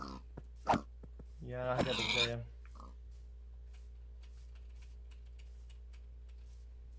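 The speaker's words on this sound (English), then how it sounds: "And pigs!" A Minecraft pig lets out a short, squealing grunt in a video game, heard once and briefly near a spoken remark, with keyboard clicks ticking on in the quiet afterward.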